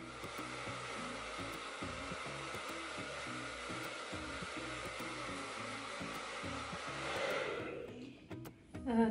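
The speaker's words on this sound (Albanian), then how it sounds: "Tani do të vazhdoj të thaj." Handheld hair dryer blowing steadily while drying hair after a homemade aloe vera hair mask, a continuous close airy roar that runs for most of the stretch before being switched off near the end.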